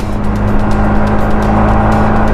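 A car engine drones loud and close in a steady wash of noise with a low hum, no talk over it.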